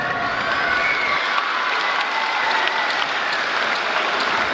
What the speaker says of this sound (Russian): Аплодисменты, друзья, громче.